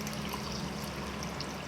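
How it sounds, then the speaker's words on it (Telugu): Water pours into a pot of Andhra-style pappu charu as a brief, steady trickling wash with no talk over it. "దీనిలో ఇప్పుడు వాటర్ పోసేసుకుందాం."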